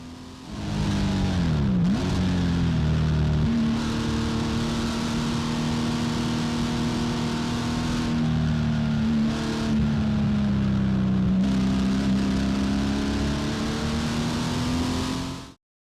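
A race car engine at Willow Springs Raceway drones loudly and steadily from on board as it slows through the track's slowest section, with the pitch dipping briefly early on, then holding and rising gently. No talking is heard.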